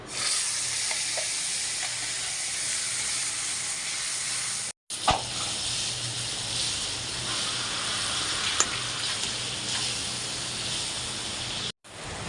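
Spices sizzling in hot oil with a little sugar, for a raw jackfruit and prawn curry, a steady close broadband frying hiss running throughout, briefly cut twice, with occasional faint stirring scrapes.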